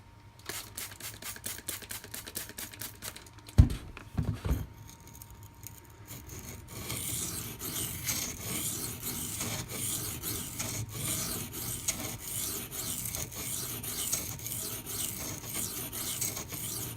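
A Spyderco Manix 2 Maxamet blade is sharpened on a Gritomatic silicon carbide stone in close, rhythmic rasping strokes, with a few sharp knocks partway through and then a steadier, louder run of grinding passes.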